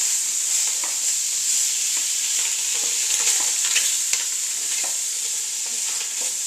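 Andouille-style cured sausage browning in a pan, a steady close sizzle and crackle running unbroken, with occasional soft stirring scrapes and one sharp tap partway through.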